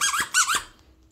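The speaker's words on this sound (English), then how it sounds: "with their favorite squeaky slipper, which you've already started to get slobber all over" A squeaky slipper dog toy squeaks twice in quick succession, close and high-pitched, followed by a fading tail of quiet.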